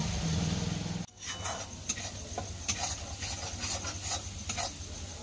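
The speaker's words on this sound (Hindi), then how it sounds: "मसाले को बहुत टाइम तक भुनना पड़ता है" Spice masala roasting in a pan for chicken, a steady close sizzle with scraping and stirring strokes of a spoon against the pan running throughout.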